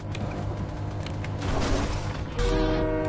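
Train in the Fortnite video game rumbling steadily with mechanical rail noise, a horn-like tonal blast swelling in near the end, loud and continuous with no talk.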